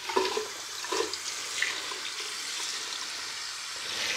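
Hot water runs from a bathroom tap during wet shaving, a steady hissing splash that continues for several seconds, fairly close, with a few small knocks and clinks at the start and no talking.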